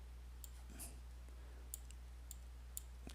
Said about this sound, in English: if I click on that